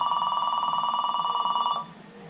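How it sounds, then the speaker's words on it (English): A Cobalt Speechmaster talking calendar clock's alarm: a rapid trilling electronic ring like an old telephone bell, steady and fairly close, then it stops abruptly, leaving a quiet hum. "that one sounds a bit like a telephone"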